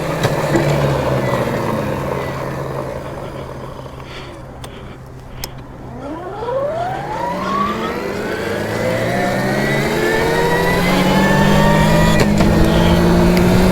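A Velimotor VMX12 80V electric dirt bike rides with a rising and falling motor whine that sweeps up in pitch as it accelerates, set over steady rushing wind noise that grows louder toward the end.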